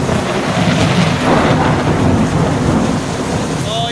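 Heavy rain pours steadily while low thunder rumbles through, a dense, loud wash of sound with no talking.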